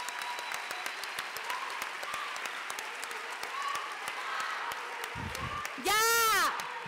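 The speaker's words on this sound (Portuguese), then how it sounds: "Pido un aplauso para ellas." Audience applause at a feminist event fills the clip as a steady wash of clapping from a crowd, with a brief loud whistle-like cheer near the end.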